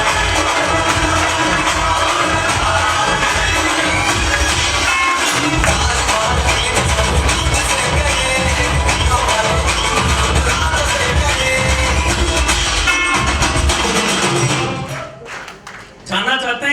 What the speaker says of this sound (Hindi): हम खड़े होकर उनसे अपने दिल की गहराइयों से उनके लिए तालियां चाहता हूं